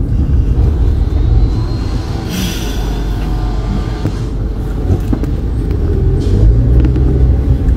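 An Isuzu Elf truck passes along a dusty road among dump trucks, giving a loud, low engine rumble that stays close throughout and is mixed with road noise.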